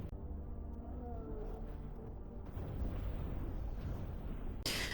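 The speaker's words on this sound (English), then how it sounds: "So many explosions, oh my gosh." Rumbling explosion effects from the film Batman Begins boom and roll continuously, with a heavier burst near the end; the sound is dense and band-limited, like a film soundtrack.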